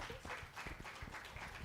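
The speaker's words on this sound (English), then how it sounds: "Let's give another round of applause to Shikriti Kohli" A TEDx audience applauds its speaker with a steady, even patter of many hands, heard faint and distant throughout the moment.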